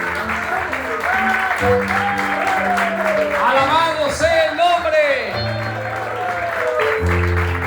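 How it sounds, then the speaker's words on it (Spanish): Church congregation applauding in praise during a Spanish-language worship service, sustained clapping running under a preacher's voice and a melodic sung or spoken line with background music. "Denle un aplauso al Señor. Denle un aplauso a Él."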